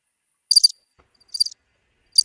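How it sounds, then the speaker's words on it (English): Crickets chirp in three short, bright bursts spaced about a second apart, close and clear against otherwise silent background. "There's some crickets in the background."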